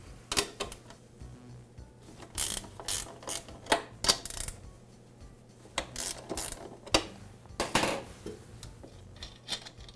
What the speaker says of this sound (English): The adjuster bracket is secured with two nuts, and I'll remove them.